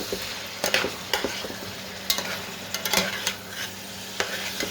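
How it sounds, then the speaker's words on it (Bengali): Snakehead fish with onion sizzles steadily in a pan, with a spatula scraping and stirring in sharp irregular strokes close by and no talk. "এখন আমি একটু পেঁয়াজ দিয়ে অল্প একটু নেড়ে চেড়ে তারপর এটা বাটা দিব, এই আর কি। শোল মাছটাকে কষিয়ে নিচ্ছি একটু।"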